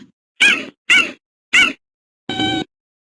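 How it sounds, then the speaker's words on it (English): Cheetah chirps: four short, high, bird-like calls spaced apart, the first three quick and similar, the last slightly longer and more tonal, close and clear against silence. "Unlike other big cats, cheetahs don't roar. They chirp."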